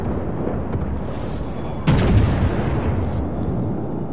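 Ship guns fire in the naval game World of Warships, one heavy boom hitting about halfway through over a steady rumbling battle background, with a short tail of rolling noise after it.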